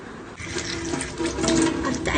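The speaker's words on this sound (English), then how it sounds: "wash my hand." Water running from a tap while hands are washed at home, a steady splashing rush that swells after a brief quieter start and continues loud and close throughout.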